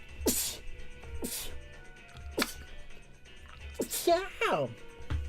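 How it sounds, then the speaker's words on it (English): Several sharp, explosive sneezes burst out close by, spaced a second or so apart, followed by a short strained vocal sound. "I don't know why I started sneezing like crazy"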